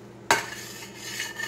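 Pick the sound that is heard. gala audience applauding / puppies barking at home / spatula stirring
spatula stirring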